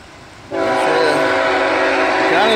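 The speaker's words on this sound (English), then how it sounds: "Here come a train." A train arrives with a loud, sustained horn blast that starts abruptly and holds steady at close range, with rail rumble underneath.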